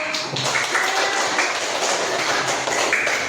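A classroom of students applauds together in a steady, dense wash of clapping that holds evenly for a few seconds, close and fairly loud.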